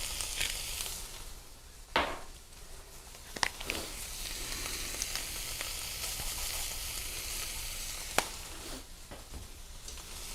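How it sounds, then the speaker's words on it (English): Vegetables for chicken pot pie sizzle in a pan, a soft, continuous frying hiss with a few sharp clinks of a utensil against the pan; no one speaks. "you cook the vegetables until they are nice and translucent"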